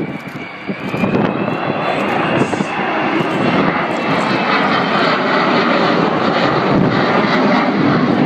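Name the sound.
Avro Vulcan XH558 bomber flying display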